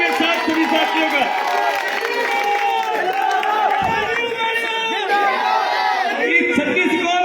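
Crowd at a community welcome ceremony for a guest in Bhadra, cheering and clapping with whoops and shouts, loud and continuous throughout, with voices mixed in.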